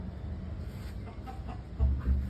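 A few soft chicken clucks nearby over low background rumble, with a slightly louder burst toward the end.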